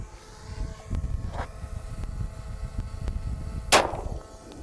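A 9mm round fired from a PPX pistol, a single sharp crack near the end over a low rumbling outdoor background, with a few faint ticks earlier.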